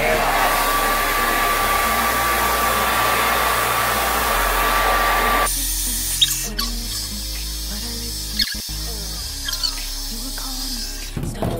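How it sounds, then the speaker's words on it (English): A hair blow dryer runs steadily and loudly while being used on a lace front wig, its broad airy roar filling the first half before cutting to a lower, thinner hum with scattered handling clicks. "Turn on the blow dryer."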